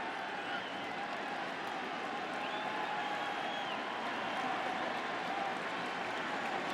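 Baseball stadium crowd at a 2010 World Series game between the Giants and Rangers, a steady wash of cheering and clapping from a large distant audience, sustained and even throughout.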